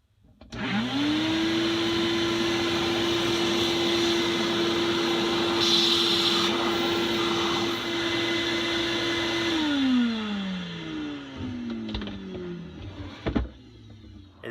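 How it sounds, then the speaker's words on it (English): A shop vac powered from a 3000-watt inverter in an RV starts up, holds a loud steady whine for about nine seconds, then winds down with a falling pitch, with a few knocks at the end. "It'll get a little noisy as I fire up the shop vac."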